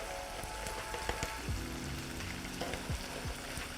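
Pieces of lavash bread fry in oil at the bottom of a pot, giving a soft, continuous sizzle and crackle with occasional louder pops and light scraping or stirring sounds, quiet and close.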